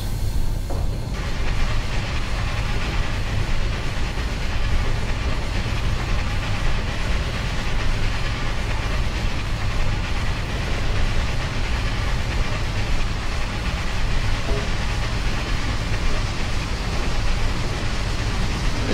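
A steam train in the Cascades, Oriental Limited run in Train Sim World 2019, rolls steadily along the rails with a continuous dense rumble and faint wheel clatter, heard alone throughout.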